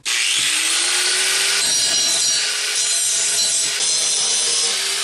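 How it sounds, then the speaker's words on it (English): An angle grinder with a flap disc grinds metal in a workshop, a loud, steady, continuous whir with an abrasive rasp that runs the whole time, with no talking. "I think I prefer the flap disc."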